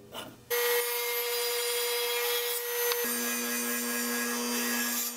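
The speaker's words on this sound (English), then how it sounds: "The first cut for the notch we're gonna make is on our table saw." A table saw cuts a notch into a 2x4: the blade whines up loudly and holds a steady, dense cutting roar, shifting in pitch partway through as the wood feeds, with no talking.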